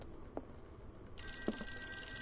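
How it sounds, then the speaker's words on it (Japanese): Telephone ringing in the Call of Cthulhu video game, a bright ring starting partway through and holding steady over a quiet ambient background with a couple of soft thuds. "電話だ。"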